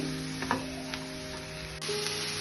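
Drumstick leaves and freshly grated coconut fry in a pan with a soft, steady sizzle, broken by a few light stirring clicks and scrapes; no voices.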